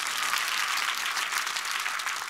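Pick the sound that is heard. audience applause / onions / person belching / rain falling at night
audience applause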